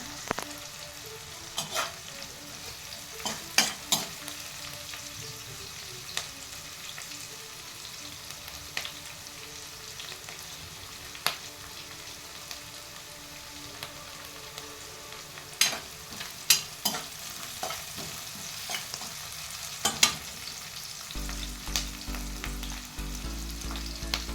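Onions and curry leaves frying in a pan, a continuous moderate sizzle broken by scattered spoon scrapes and clinks, with a low hum entering near the end and no talking.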